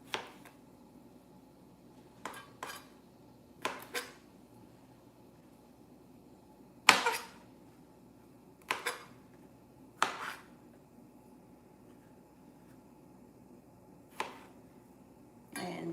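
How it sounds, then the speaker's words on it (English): Okra being chopped on a cutting board for okra soup, with about ten sharp knife taps scattered unevenly and well spaced, close and fairly quiet over a low steady background. "We are done chopping our okra."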